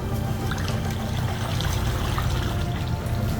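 Water being blown out through a swimming pool vacuum hose at the pool outlet makes a steady, close gurgling rush that stays even for the whole stretch.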